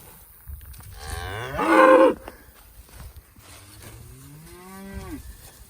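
A herd of cattle including a first-calf heifer and a four-year-old cow, with one loud, close moo followed by a second drawn-out low moo, amid soft background rustle.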